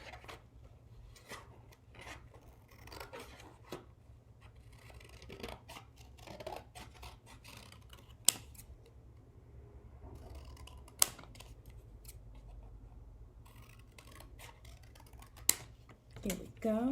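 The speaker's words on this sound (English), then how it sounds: "I'm gonna go ahead and cut the cereal box cardboard with these letters out" Scissors cutting letter shapes out of cereal box cardboard, producing quiet, close snips and rustling, with occasional sharper clicks and someone speaking now and then.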